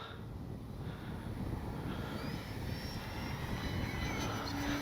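A Kavan Pulse 2200 V2 RC plane with full-span ailerons flies overhead, its motor a faint, steady drone against wind and outdoor noise, with no voices.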